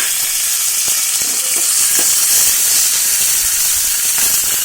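Gram flour (besan) roasting in hot oil with curry leaves for a Sindhi curry, a steady close sizzle and hiss with faint stirring scrapes throughout.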